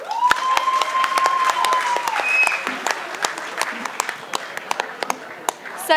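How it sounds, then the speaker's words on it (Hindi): Scattered applause from an audience after a performance of the song "Dama Dam Mast Qalandar", sharp individual claps that thin out over time, heard under a sustained tone and some voices. "पर तालियां क्यों रुक रही है"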